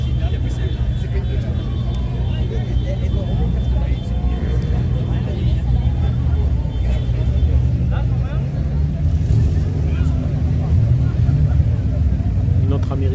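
An American Chevrolet car at a large auto and moto meet gives a low, steady engine rumble close by, running continuously under people talking.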